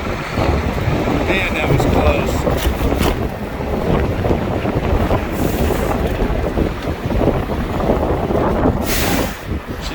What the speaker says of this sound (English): Man, the wind is crazy out here.